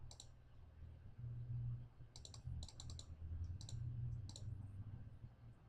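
Faint, crisp mouse clicks while a column is inserted in a spreadsheet: a few scattered single and double clicks over a low steady hum, close but quiet.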